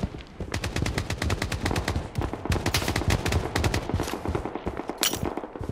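Rapid automatic gunfire rattles in Project BloodStrike, dense bursts of shots nearly continuous throughout, loud and close with a few brief gaps.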